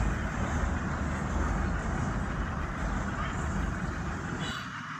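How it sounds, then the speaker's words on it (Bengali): Train passing near a riverside ferry ghat on the Turag River, a loud, steady low rumble of rolling wheels that stays constant and then eases off toward the end. "ট্রেন যাইতেছে, দেখতে পাইতেছেন।"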